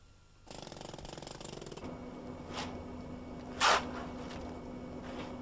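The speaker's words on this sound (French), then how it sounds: "Le recépage est effectué avec le marteau-piqueur." A jackhammer breaking away poor-quality concrete from the head of a foundation pile, hammering in a steady rapid burst for over a second, then a fainter ongoing hum with a sharp clank partway through.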